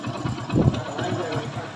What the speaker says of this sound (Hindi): तो हमारा बाइक स्टार्ट हो चुका है।